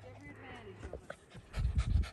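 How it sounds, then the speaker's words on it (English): Dogs pant in quick, rhythmic bursts near the end, close by and fairly loud, with people speaking softly earlier. "Oh, hi dogs, hi dogs."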